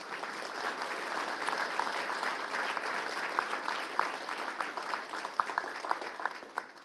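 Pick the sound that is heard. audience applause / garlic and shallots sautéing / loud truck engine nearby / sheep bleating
audience applause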